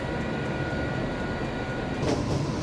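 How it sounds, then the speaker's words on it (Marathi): A Mumbai suburban local train rumbling past close by, a loud, steady roar of wheels and carriages that swells briefly near the end, with no voices. "दर 40 सेकंदाला एक ट्रेन, एका दिवसात 1800 पेक्षा जास्त ट्रेन"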